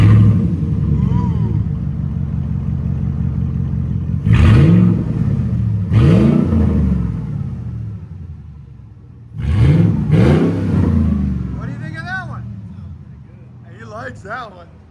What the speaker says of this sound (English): the race muffler. Start it up.